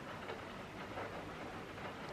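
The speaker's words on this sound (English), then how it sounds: "of the rain falling on my Veluxes, it is bloomin' lovely" Steady rain patters on Velux roof windows in a bedroom, a soft continuous wash of drumming that stays even and faint throughout with no voices.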